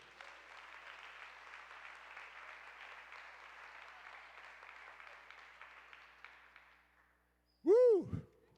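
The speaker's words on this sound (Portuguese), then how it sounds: "Se você crê, aplaude o Senhor." A church congregation applauds at a family celebration service, steady moderate clapping for about seven seconds that fades out, then a short loud tonal sweep right at the end.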